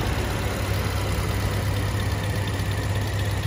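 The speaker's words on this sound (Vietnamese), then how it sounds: "máy đang nổ này, máy nổ giòn tan luôn" A 2011 Toyota Vios petrol engine idles steadily, giving a constant low hum with a fine rapid pulsing and a faint even ticking, heard up close with no voices over it.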